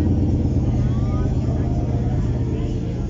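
A Volkswagen Beetle engine with a modified exhaust runs at a rough, low, pulsing idle, steady and close, at a Beetle enthusiasts' gathering in Morelia, Michoacán.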